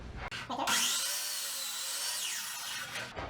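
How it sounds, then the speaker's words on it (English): A miter saw spins up and slices through a wooden board at an angle in one quick, loud, close cut lasting a few seconds, then winds down. "Having a miter saw makes quick work of cutting at angles."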